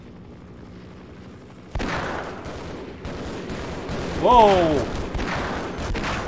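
Gunfire in the Half-Life video game during a roleplay session, heard as loud, dense bursts that start suddenly partway through amid game noise, with a brief exclamation from a player over it.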